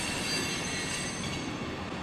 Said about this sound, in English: As the train continues to roll on by us